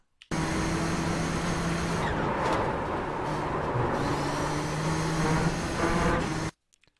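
Nissan GTP ZX-T race car in the iRacing video game at full speed on the Oulton Park circuit, a steady loud engine drone with whining harmonics held for several seconds, then cut off abruptly.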